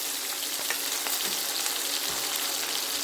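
Onions fry in a pan over a lowered gas flame, giving a steady, even sizzle that stays fairly soft and continuous, with a few faint clicks and no talking.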